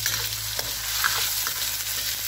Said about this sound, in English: So we're just going to fry this off until it takes on a bit of color and dries out a little bit.